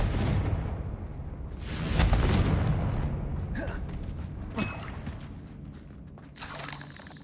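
A Confringo explosive spell in Hogwarts Legacy goes off as a heavy booming blast, with rumbling impacts and crackling debris amid game combat sounds.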